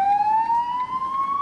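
Greek EKA ambulance siren near a scene of violent unrest, a steady rising wail that continues throughout, loud and close, with no talk.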